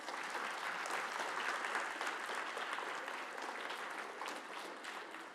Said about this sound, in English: Round of applause for Mo Bridges